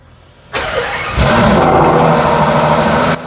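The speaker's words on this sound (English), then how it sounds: "Cold start." A car engine cold starts inside a collection building: a starter cranks briefly, then the engine catches and settles into a loud, steady idle before cutting off near the end.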